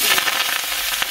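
Vegetables hitting hot oil in a pan, a loud, dense hiss of frying with faint crackles running steadily throughout, close by with no voices.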